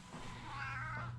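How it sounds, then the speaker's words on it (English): A large house cat gives a single drawn-out, raspy meow, close and fairly quiet, in a kitchen at night. "That dry ass meow."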